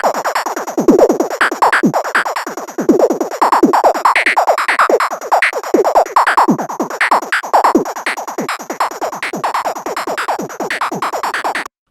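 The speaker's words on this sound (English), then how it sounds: "the zaps. So those zaps." A synth preset of zap sounds plays as a dense, loud run of rapid electronic zaps and sweeps, continuous for the whole stretch with no voice.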